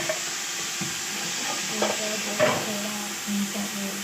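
Yakhni mutton tipped into fried masala sizzles steadily in the pot, with a few scraping stirs and thuds over a constant hiss, close and fairly loud.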